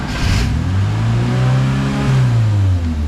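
The engine of a Fiat X1/9 with a freshly rebuilt carburettor and reset timing runs up close, revving up and holding, dipping briefly and then easing back, with no one talking.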